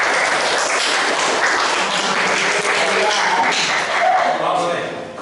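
Classroom of students clapping together on cue in a steady burst of applause that swells and then fades toward the end, with talking mixed in.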